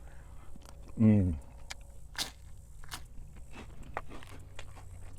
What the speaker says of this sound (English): As you can hear, super crunchy, very airy, very light, very pleasant to eat.